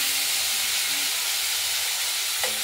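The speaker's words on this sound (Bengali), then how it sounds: "শিমগুলো এবার আমরা ভাজা করে নেবো।" Flat beans and potatoes frying in hot oil, a steady loud hiss of sizzling that holds evenly throughout with a small clink near the end, no talking.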